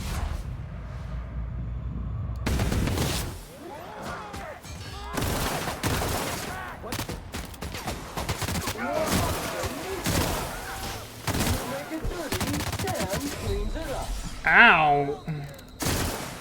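Gunfire from a weapon in the sci-fi video game The Outer Worlds comes as a dense, sustained barrage of shots and bursts under frequent talking and a pained cry.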